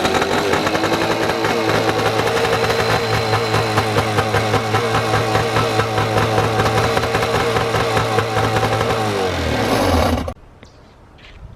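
Two Kawasaki jet skis, an SXR800 and a 650SX, run together out of storage with a loud, busy two-stroke idle that stumbles and dies near the end, leaving quiet.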